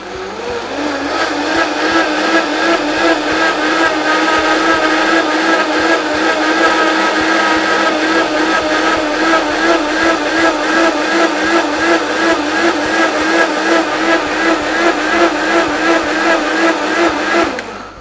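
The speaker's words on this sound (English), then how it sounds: "You're gonna add that into the blender with your whiskey, with your rye" A blender pureeing feta cheese into rye whiskey runs loud and continuous for the full length, a steady high whine with a fast buzzing pulse, close by and without talk.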